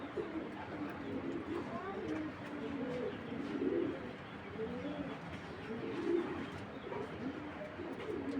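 Imported racing pigeons coo in low, rolling bursts, several overlapping calls repeating close by over a steady background hum.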